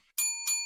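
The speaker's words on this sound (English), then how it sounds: "Ring the bell." Two bright metallic boxing bell strikes in quick succession, each ringing with a sustained tone that hangs on after the hit, loud and close.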